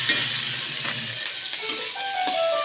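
Onion sautéing in a pan for a ridged gourd and egg dish, a bright hissing sizzle with faint scattered pops and light stirring, close and steady.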